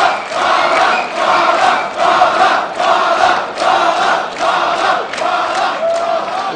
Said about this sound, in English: Just the crowd still loves him.